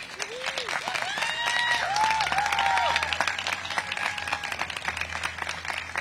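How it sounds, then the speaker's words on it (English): An outdoor crowd at a school playground ribbon-cutting gives a round of applause for teachers: brisk clapping that swells and then eases over six seconds, with a few high whistles and cheers on top. "Let's have a round of applause again for all of your teachers."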